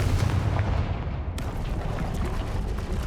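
A Confringo fire spell from the video game Hogwarts Legacy bursts in a loud, dense explosion, and a sharp crack partway through is followed by a rumbling, crackling tail.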